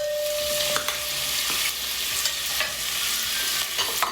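Carrots and potatoes dropped into a hot pot for carrot soup, a dense steady sizzle with scraping stir strokes and clinks throughout, close and loud, no talk.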